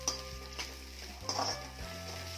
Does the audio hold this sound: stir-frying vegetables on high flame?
yes